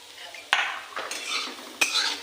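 Close metal scrapes and clinks of a utensil stirring onion in a wok, a few sharp strokes over a faint sizzle.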